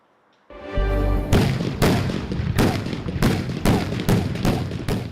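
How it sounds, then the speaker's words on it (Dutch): Loud carbide cannon blasts in Zeeland boom one after another, about eight heavy bangs over a few seconds, each followed by a rumbling echo, with no talking. "Karbietschieten."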